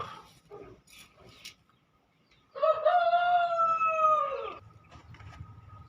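A young rooster crows once, loud and nearby, a drawn-out call lasting about two seconds amid quieter rustling and scattered background noise.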